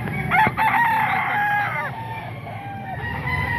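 A young gamecock stag crows close and loud with a long drawn-out call, with clucking fowl and faint talk in the background.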